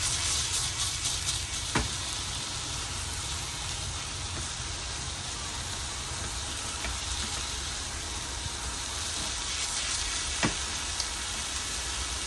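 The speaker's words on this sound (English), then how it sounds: "we're going to let this meat brown a little bit more." Meat browns and sizzles in a pan with red pepper flakes, a steady broadband crackle running throughout with a couple of sharp pops and no voices.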